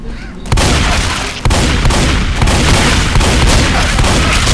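Rapid bursts of Left 4 Dead 2 gunfire boom and crack repeatedly, loud and close, in dense successive volleys with no clear speech.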